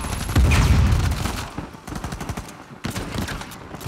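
Gunfire in Uncharted 4, a dense burst of automatic shots early on that thins into scattered, sharper reports toward the end, with no voices.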